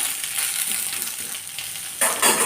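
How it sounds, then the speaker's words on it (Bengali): Ground spice paste of fennel, radhuni, cumin, poppy seed and green chilli hitting frying potatoes and eggplant, a close, steady sizzle that flares louder as the paste lands near the end. "তখন এই বেটে রাখা মশলাটা আমি দিয়ে দিলাম"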